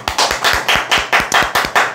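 Audience members clap hands in unison during a talk, about ten sharp, evenly spaced claps in a brisk rhythm, close and clear with no speech over them.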